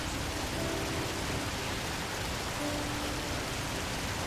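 Steady rain falls in the video game Heavy Rain, a dense, even hiss that holds at the same level the whole time with no voices over it.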